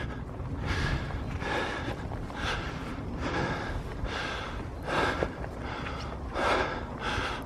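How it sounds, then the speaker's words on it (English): A person pants heavily out of breath outdoors at an old hillfort, rhythmic breaths close to the microphone repeating roughly every second over wind rumble. "I'm just panting."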